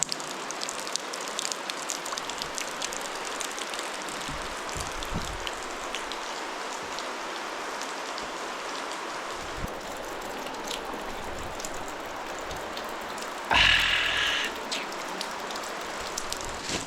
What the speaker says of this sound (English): And then there's a creek flowing through here